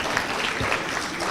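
Brief burst of clapping from guests at a school alumni society gala dinner, dense and fairly close, filling the whole short moment without pause.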